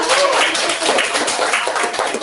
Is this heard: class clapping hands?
yes